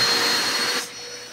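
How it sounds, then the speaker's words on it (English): Vacuum cleaner running, a loud, close, steady whine with a high tonal hum that drops off sharply near the end as it powers down. "I might run the vacuum real quick, just to show y'all how fast this joint come up right here."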